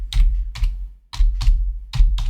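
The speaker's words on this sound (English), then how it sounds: "I'm thumping on the keyboard, or so it sounds to y'all." Heavy thumping keystrokes on a computer keyboard, arriving in quick clusters of several presses separated by short pauses, close and loud with no speech.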